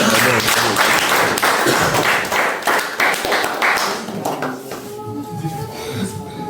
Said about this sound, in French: Applaudissons encore pour le Seigneur.